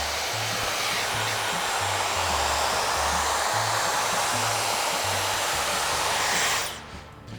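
A hair dryer blows a loud, steady roar close by while drying textured hair, with a low pulsing hum throughout, then cuts off abruptly near the end. Nobody speaks.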